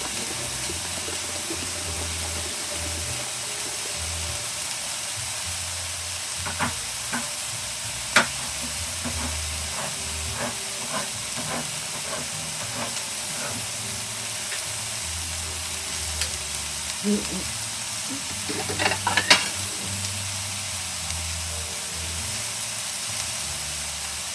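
Chicken breast sizzles steadily in a pan, a dense continuous hiss broken by a few sharp pops and utensil clicks, with a short burst of clatter near the end; no one speaks.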